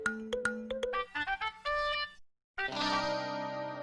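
A phone's tonal ringtone melody plays loud and close in a home, with a quick run of bright notes, a brief gap, then the tune resumes without any talking.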